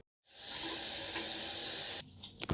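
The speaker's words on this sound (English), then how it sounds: "We're gonna wet this fire silk durag in cold water." Cold tap water running onto a silk durag held under the faucet: a steady close hissing stream that cuts off after about two seconds, followed by a few wet drips and splashes.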